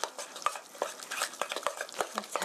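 Ground pork being stirred with wine and pepper in a bowl for pork steak, a close, busy run of soft wet squelches and sharp utensil scrapes and taps in an uneven rhythm, with no voices.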